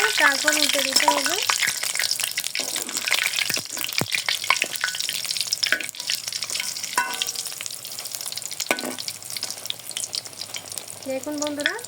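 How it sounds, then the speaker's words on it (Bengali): Malabar spinach leaf pakoras deep frying in hot oil, a steady close crackling sizzle with scattered sharp pops and bubbling throughout, no talking. "দেখুন বন্ধুরা, কি সুন্দর পকোড়া ভাজা হচ্ছে।"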